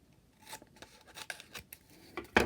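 Craft tower being trimmed, an overhanging piece of card or material cut away with short, quiet rasping strokes that end in one louder, sharper cut near the close.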